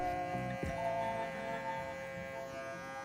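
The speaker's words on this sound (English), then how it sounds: "follow that along with my electric shaver" An electric shaver runs continuously against the grain during a barbershop burst fade haircut, giving a steady mid-pitched buzz with a faint hum. One brief bump comes near the start, and no talking is heard.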